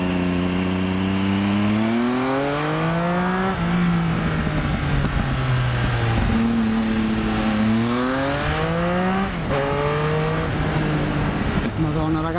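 A motorcycle engine rises and falls in pitch through repeated gear changes as it rides, loud and steady throughout.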